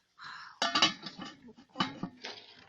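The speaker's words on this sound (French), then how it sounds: "On couvre le cuiseur." A metal lid set onto a solar cooker pot, giving a run of close, quiet clinks and clatters: two sharp knocks, then softer scrapes and a final light rattle.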